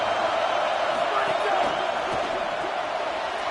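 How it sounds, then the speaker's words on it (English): Stadium crowd roaring at a Texas versus Washington college football game, a dense sustained wash of cheering, loud and continuous, with a commentator talking over it. "Listen to this crowd just shaking the girders of this place trying to help their defense"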